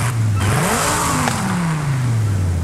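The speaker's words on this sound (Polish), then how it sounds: "Tutaj wydech nie wpływa w ogóle na dźwięk samochodu." Car engine and exhaust in the video game Forza Horizon 5, a loud close engine that revs up and climbs, shifts, then eases down in pitch over a few seconds.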